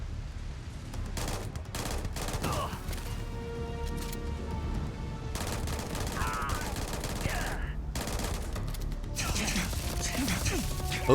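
Starfield combat gunfire, with bursts of shots and clattering fusillades scattered across the scene at moderate loudness amid game noise and mechanical clicks.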